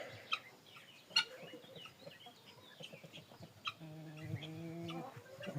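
Large Grey breed goslings peeping, a few scattered soft calls followed by a run of steadier, clearer peeps near the end, fairly close, with no one talking.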